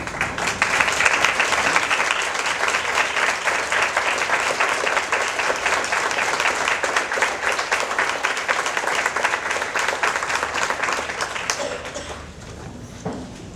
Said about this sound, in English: would you please stand for a round of applause?